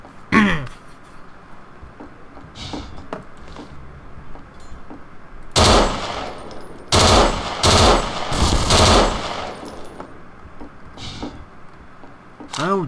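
Automatic gunfire in the video game Garry's Mod, on a gambling district adventure map: scattered shots early, then loud, dense bursts in the middle, tapering to a few isolated cracks near the end.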